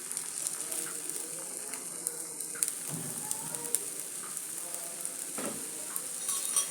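Multi-millet dosa batter sizzles on a hot pan in a soft, steady crackle, with a few light taps and scrapes now and then.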